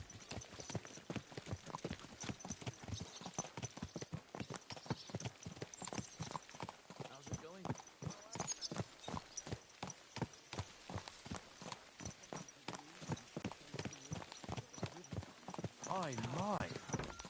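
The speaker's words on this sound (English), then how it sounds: "My, what a beautiful horse" Horse hooves clip-clopping in the medieval video game Kingdom Come Deliverance, a steady, close, rhythmic run of hoofbeats over the whole stretch, with a brief whinny or voice-like sound near the end.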